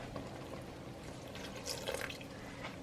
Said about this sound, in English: what I think I'm going to do is add just about maybe a cup or so of water